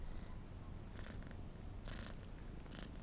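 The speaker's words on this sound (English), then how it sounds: "Can you hear her purring?" A rescued street-born cat named Spuddy purring close up, a soft continuous rumbling purr with a few faint breathy rises across a few seconds.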